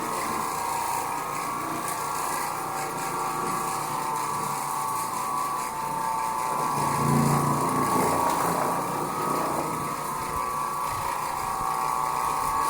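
Oreck Orbiter bonnet carpet cleaning machine running steadily, a continuous mechanical whir with a rattling, ratchet-like texture and a constant motor tone, fairly close and alone.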